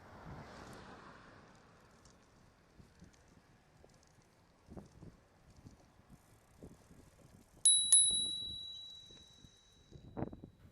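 A bicycle rolls along quietly outdoors with faint mechanical ticks, then a single bright bell ring chimes out and fades away.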